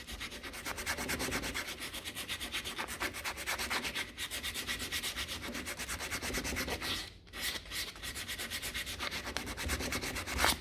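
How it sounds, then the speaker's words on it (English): Steady rhythmic scratching of sandpaper rubbed back and forth on a wooden die to curve its edges, close and continuous, with a brief pause before the strokes resume. "So we want to be sanding this on its flat face, but also moving the sandpaper around"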